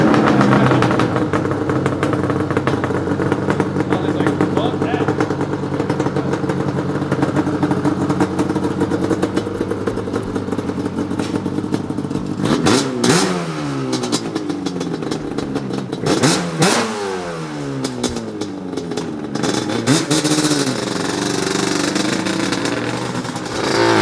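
A Yamaha Banshee four-wheeler is ridden nearby, its engine droning loudly and then revving hard in several sharp rising-and-falling bursts toward the middle and end.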